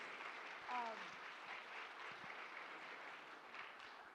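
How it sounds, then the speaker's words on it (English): Applause from a summit audience honoring the speakers at a hybrid Code for America gathering, a steady wash of clapping held at moderate level, with a brief tonal cheer or whoop early on. "So let's give them all a round of applause."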